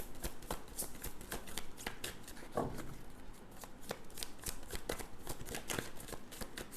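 Playing cards being drawn and shuffled from a deck during a reading, a continuous close crisp riffling and flicking texture with soft slaps throughout.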